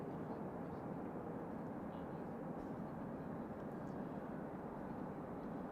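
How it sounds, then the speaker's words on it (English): A Swiss Airbus A320neo airliner flies overhead as a steady, distant, broadband rumbling roar that stays even and fairly faint throughout. "Looks like an Airbus A320neo going to Zurich"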